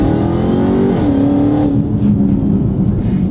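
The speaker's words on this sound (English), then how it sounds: "One of the biggest things you notice in the Hellcat is the supercharger whine." A Dodge Charger Hellcat with a 707-horsepower supercharged engine accelerates hard, its loud, steady engine roar carrying a rising then easing supercharger whine, close and continuous throughout.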